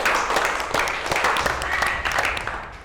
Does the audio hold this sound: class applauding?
yes